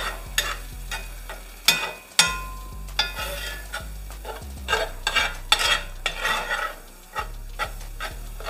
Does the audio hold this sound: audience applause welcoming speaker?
no